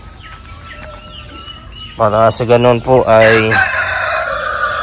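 Chickens cluck faintly at first, then a rooster crows loudly nearby in several bursts, among young hens about two to three months old on a poultry farm with breeders and turkeys; a person talks briefly.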